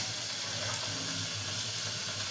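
Whole cinnamon and cardamom sizzle in hot ghee and oil in a pan, a soft, steady frying hiss that runs without a break and with no talking.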